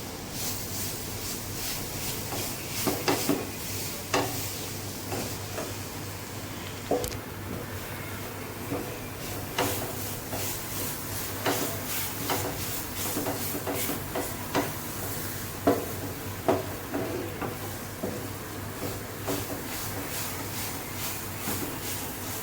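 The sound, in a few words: stirring ladoo mixture in a pan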